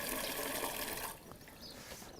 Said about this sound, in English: Just going to pour that in there and just give it a little bit more water just to stir it up a bit.